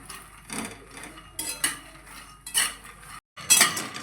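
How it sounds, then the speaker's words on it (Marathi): Makhana fox nuts roasting in ghee in a pan, stirred with a metal spoon that makes repeated scraping and clinking strokes at an irregular rhythm, close and fairly clear, with a brief silent gap near the end. "छान असं परतून घ्यायचं तुपाची टेस्ट आली पाहिजे"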